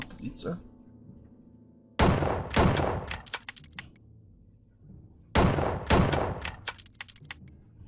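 Two bursts of rapid gunfire in the video game Outlaws, each a loud crack followed by a quick run of shots, separated by quiet with faint background sounds.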